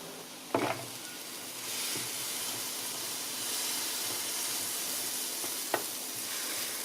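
Vegetables sizzling in a pan cooked without oil for vegan paella, a steady soft hiss with a couple of sharp utensil scrapes and clinks.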